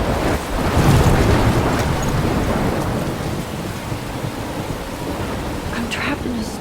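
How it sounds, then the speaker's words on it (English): A thunderstorm in the video game Life is Strange: heavy steady rain roars continuously with deep rolling thunder, a dense wash of storm noise throughout. "I'm trapped in a storm?"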